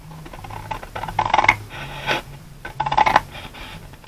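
Scissors snip through a sheet of paper in short bursts of crisp cuts with quiet rustling between them, close up and with no voices.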